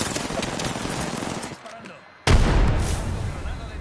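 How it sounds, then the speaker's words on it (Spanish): An Apex Legends thermite grenade erupts after a brief lull in a gunfight, a sudden loud blast followed by a sustained roaring burn, with heavy gunfire before it and voices speaking. "Granada de termita"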